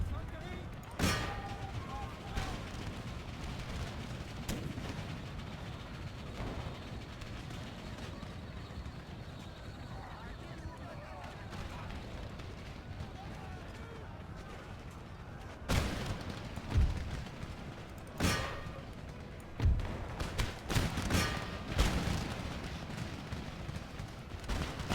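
Cannon fire from 12-pounder artillery in the video game Empire Total War, several booming blasts and crackling volleys scattered amid battle din, with some fire loud and close and some distant, under occasional talk.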